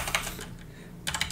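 A WP-CLI command is typed on a computer keyboard: two quick bursts of crisp key clicks separated by a short pause, close and fairly quiet, with no talking.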